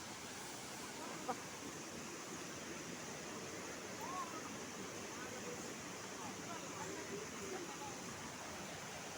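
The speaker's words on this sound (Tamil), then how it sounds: "தண்ணி நிறையவே வருது பாருங்கள் சத்தம் கேட்குது" Rushing stream water at Kurangani pours in a steady, unbroken wash of noise, fairly soft and constant throughout.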